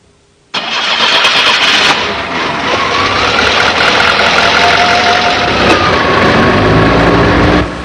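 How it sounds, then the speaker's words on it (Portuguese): A gasoline car engine fitted with a Brosol 2E carburetor cranks and fires abruptly, then settles into a loud, steady idle close by with a rough mechanical rumble that runs continuously to the end. "é só dar a partida no motor e aguardar que ele atinja a temperatura normal de trabalho"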